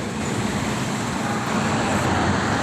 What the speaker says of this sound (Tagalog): Maraming traffic mga idol.